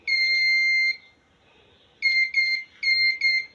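An Arduino blind-stick buzzer beeps loudly nearby on detecting an obstacle: one long tone, a pause, then four short beeps in quick succession.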